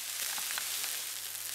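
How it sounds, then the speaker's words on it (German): Onions with paprika powder fry in a pan, giving a steady bright sizzle with light crackles, close and even throughout, no voices. "jetzt lassen wir das noch mal kurz weiterbraten"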